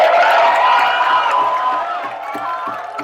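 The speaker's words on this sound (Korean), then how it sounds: "자, 박수 한번 저한테 보내주세요." Outdoor street crowd at a political busking rally in Gwanghwamun cheering, whooping and clapping in a dense, sustained wash that fades slightly toward the end, with a few sharper claps near the close.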